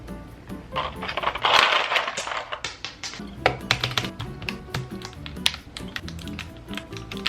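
Rapid plastic clicks and taps clatter unevenly as boba keycaps are pressed onto a mechanical keyboard, close and fairly loud, with no talking.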